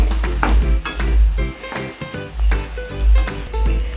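Veg pulav paste being stirred in a hot pan, a steady loud sizzle with repeated scraping strokes of the spoon across the pan surface, no voices.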